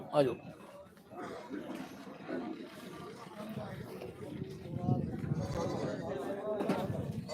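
Goats bleating at the Dhanaula goat market on Channa Road, several animals calling repeatedly amid a busy crowd, with people talking throughout and a loud market bustle around them.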